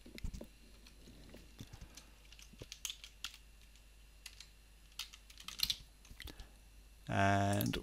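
Computer keyboard being typed on while entering Docker login credentials: quick, irregular keystroke clicks near and moderately quiet, with a brief louder voice cutting in at the very end.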